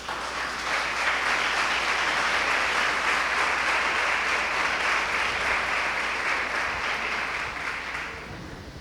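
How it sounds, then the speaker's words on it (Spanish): A church congregation applauds the Lord during a sermon, a loud, sustained roar of clapping from many people that holds steady for several seconds before easing off at the end. "Denle un aplauso al Señor"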